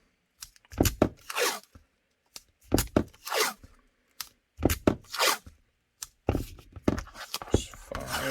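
Tape pulled off a roll and torn in several bursts, each a loud, close, ripping screech with short gaps between them.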